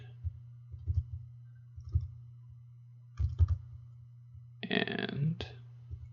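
Computer mouse clicks sound in short, separate bursts over a steady electrical hum, with a brief rustle near the end.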